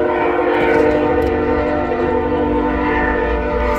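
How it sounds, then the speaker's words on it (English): A loud train horn blares steadily in sustained, layered tones, with the rumble of a passing train underneath throughout. "Sorry about the train."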